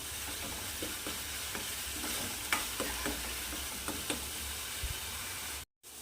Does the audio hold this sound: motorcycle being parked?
no